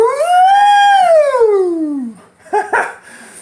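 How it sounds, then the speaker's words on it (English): A dog lets out one long, loud howl that rises and then slides down before trailing off, followed by a couple of short sharp yips close by. "the dog's freaking out"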